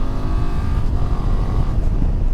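A 2024 BMW F 800 GS motorcycle engine revs loud and close, holding a steady, throbbing drone at high rpm throughout with no voices.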